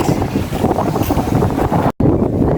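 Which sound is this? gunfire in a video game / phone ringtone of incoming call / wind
wind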